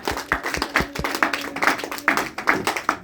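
A church congregation claps during a service, a close, loosely rhythmic patter of hand claps and taps sustained for a few seconds, with no speech over it.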